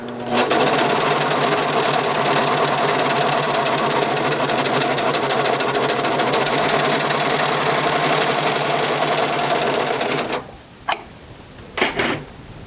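A serger runs continuously and loudly up close, stitching and knife-trimming a T-shirt neckband, a dense steady whir that stops abruptly near the end, followed by a couple of short clicks.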